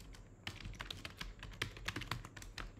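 Keys are pressed on a computer keyboard for an Eclipse shortcut: a quick, irregular series of close, crisp clicks and taps with no speech.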